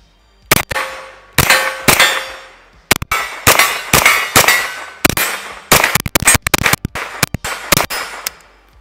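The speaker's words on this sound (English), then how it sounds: "We're gonna be shooting at the steel." Repeated 9mm shots from a KelTec Sub2000 carbine, each followed by the ringing clang of steel targets; sharp, loud reports in quick irregular strings and pairs, ringing tails decaying between them.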